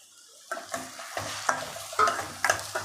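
Two finely chopped tomatoes sauté with garlic and onion in a pan, frying with a soft sizzle while a spoon stirs in regular scraping strokes about every half second, close and fairly quiet.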